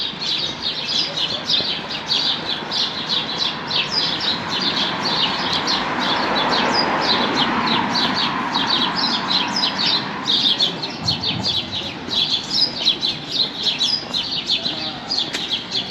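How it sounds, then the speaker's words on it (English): Birds singing at dusk in San Agustin, Mallorca: a dense chorus of chirps and tweets that carries on throughout, with occasional squawks and a soft murmur of voices and background noise beneath. "The birds saying good night. Certainly singing a lot, aren't they?"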